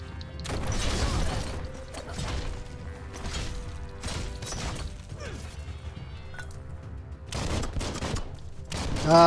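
Gunfire in the Biomutant video game: repeated bursts of shots and impacts in several separate volleys, loud and close, with mechanical clatter between them and no talk over them.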